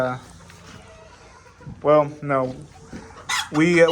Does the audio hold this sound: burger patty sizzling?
no